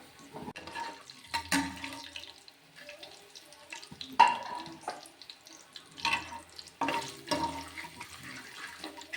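Rice for a white pulao is rinsed and swirled in water by hand, making quiet, close splashing and sloshing in intermittent bursts with small drips between.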